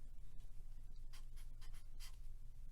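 Marker or chalk strokes on a board while working an arithmetic sequence problem, a few short faint scratchy writing bursts over a low steady hum, no talking.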